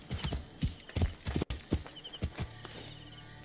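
Horse hooves clip-clopping in Assassin's Creed Origins, a rhythmic run of near, fairly loud hoofbeats with a brief whinny-like snort, set against soft game ambience.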